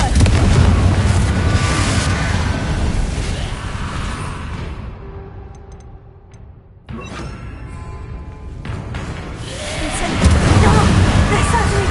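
A Confringo blasting spell fired in the Hogwarts Legacy video game, heard as dense, loud booming bursts with a rumbling wash of game effects and music, briefly dipping quieter midway before surging back.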